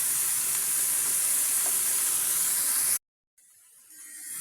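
Bitter gourd frying in a pan gives a steady, loud broadband sizzle for about three seconds, cuts to silence, then returns fainter as the stirring continues; no voices.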